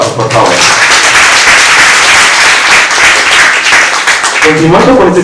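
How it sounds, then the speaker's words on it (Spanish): Loud, sustained applause from a crowd fills the clip, with some cheering and voices mixed in toward the end. "Fuerte los aplausos, por favor."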